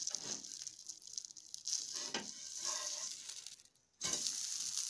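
Rava (sooji) dosa roasting on a hot pan, giving a steady close sizzle and crackle that fades briefly near the end before the frying hiss returns at full strength.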